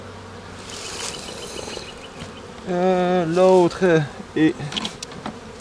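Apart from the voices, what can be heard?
honey bees buzzing on hive frame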